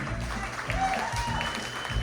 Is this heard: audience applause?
yes